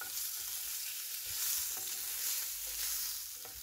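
Prawns frying in an iron skillet give a steady, close sizzle with crackling bursts and faint stirring clicks, with no one talking.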